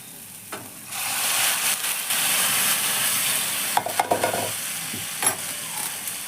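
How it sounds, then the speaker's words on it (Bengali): Hot water poured into a frying pan of fish curry (bata fish with black cumin), a brief rush of sizzling and bubbling after a clink, then a few spoon knocks against the pan. "এবার গরম জলটাকে আমি ঢেলে দিচ্ছি।"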